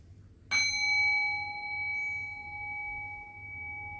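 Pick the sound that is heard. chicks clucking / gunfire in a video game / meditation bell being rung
meditation bell being rung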